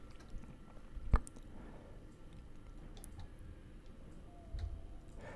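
Someone chews a kebab close to the microphone, producing faint, soft wet clicks and squishy bites at irregular intervals over a quiet background.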